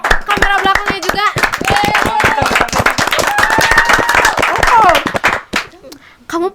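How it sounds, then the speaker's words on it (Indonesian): A small podcast studio audience claps in sharp rapid bursts, the loud rhythmic hand claps overlapping with voices talking and laughing, then thinning into a few scattered claps at the end. "Tepuk tangan yang terakhir dong, ini yang kamera belakangnya juga."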